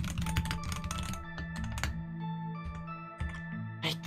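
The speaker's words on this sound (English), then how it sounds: "my typing feels so unreliable right now" Rapid typing on a computer keyboard, irregular bursts of close, crisp key clicks with brief pauses, set against a faint steady electronic hum and tones.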